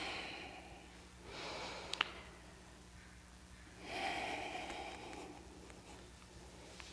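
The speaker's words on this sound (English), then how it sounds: "Breathe out. And in. And out, and in." Slow, soft breathing during a yoga flow, two long airy breaths about two seconds apart, faint and close with a low hum underneath.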